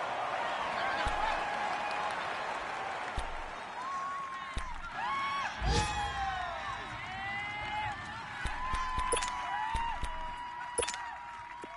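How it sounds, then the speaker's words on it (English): The stadium crowd in a PS4 football video game builds into a steady roar with cheers and applause ahead of a big third down, continuous throughout. "the crowd getting into it as we come up on a big 3rd down"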